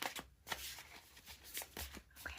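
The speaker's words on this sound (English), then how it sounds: "I'm just doing a really good shuffle for you guys" Cards riffle and snap in quick bursts as a deck is shuffled repeatedly, close and crisp, with no talking.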